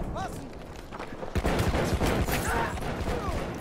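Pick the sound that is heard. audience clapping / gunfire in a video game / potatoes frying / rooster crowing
gunfire in a video game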